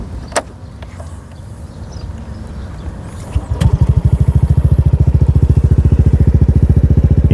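A Suzuki Burgman 125 CKD scooter with a deep-toned aftermarket exhaust starts up after a few clicks and clatters, then settles into a loud, steady, pulsing idle close by.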